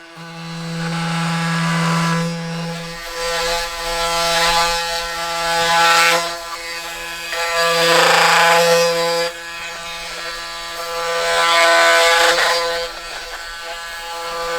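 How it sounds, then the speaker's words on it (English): An oscillating multi-tool cuts vertically into the shelf of a chaga mushroom growing on a tree, a steady high buzzing drone that rises and falls in several strained passes. "It's an oscillating multi-tool. This is the best tool I've found. It allows me to cut vertically into the chaga"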